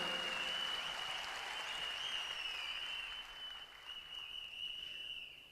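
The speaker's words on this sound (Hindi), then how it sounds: "एक बार जोरदार ताली होनी चाहिए।" Audience applause for a company team and management at a business event, a steady stretch of crowd clapping that softens after a few seconds, with a high sustained tone running beneath it.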